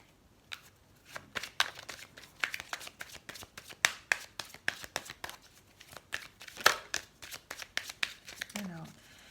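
Oracle cards riffle and shuffle in quick, crisp bursts of papery flicks and taps, close and fairly quiet, with a brief rustle near the end.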